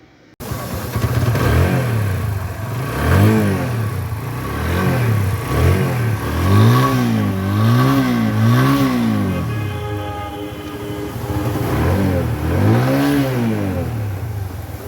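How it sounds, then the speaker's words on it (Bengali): A 2018 Apache RTR 2V motorcycle engine revved up repeatedly, rising and falling throttle blips over a steady idle, close and loud. "গাড়িটির ইঞ্জিন সাউন্ড শুনলেন খুবই স্মুথ অবস্থা রয়েছে নতুনের মতো সাউন্ড রয়েছে"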